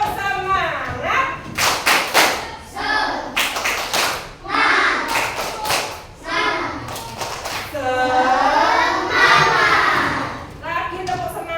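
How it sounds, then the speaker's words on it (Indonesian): Schoolchildren in a classroom perform a rhythmic spirit clap in loud, crisp groups of claps, with the teacher's voice and the children's chanting voices between the groups. "Oke, kita tepuk semangat ya."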